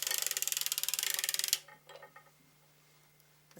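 Sock knitting machine cranked across a row, giving a rapid, even train of mechanical clicks and ratcheting for about a second and a half, then a few softer scattered clanks as it settles.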